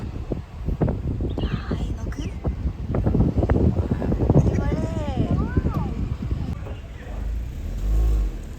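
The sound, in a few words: vehicle driving along road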